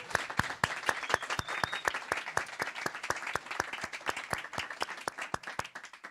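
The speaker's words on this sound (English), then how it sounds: "applause." Applause from a conference audience at a Django event, a steady dense patter of many hands clapping with sharper individual claps standing out throughout, fairly distant and even in level.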